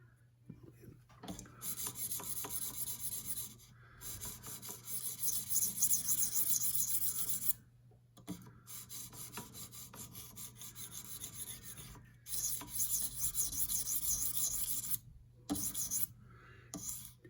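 S110V powder-metal knife steel is stroked along its bevel on a sharpening stone for a mirror polish, giving repeated raspy scraping passes a few seconds long, broken by short pauses, close and fairly quiet with no voices.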